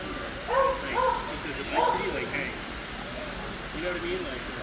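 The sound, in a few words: dog barking indoors at a model train show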